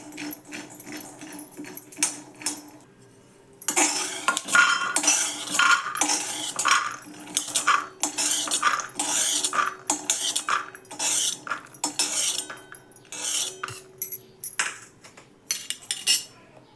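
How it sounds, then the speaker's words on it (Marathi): Peanuts roasting in a hot kadhai for Maharashtrian thecha, a steady close clatter and rattle of nuts and metal stirring against the pan, with a short quieter pause before it resumes and continues throughout. "कढई तापली की लगेच शेंगदाणे भाजतात"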